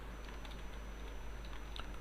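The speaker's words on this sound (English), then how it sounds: "I'm just typing it" Quiet, steady typing of code on a computer keyboard during a WordPress PHP theme-building session: soft, rapid key taps running continuously over a low background hum, with no talking.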